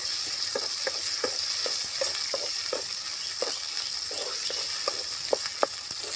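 Tomatoes sauté in a pan for appalam kulambu with a steady, close sizzle, broken by regular soft clicks of a spoon stirring.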